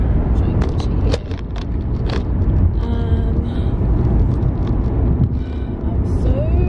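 A car driving along a road, its engine and tire rumble loud and constant with buffeting wind noise on the microphone throughout; a voice is heard briefly over it.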